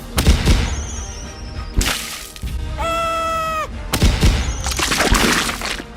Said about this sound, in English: once the spectacular fireworks exploded in the air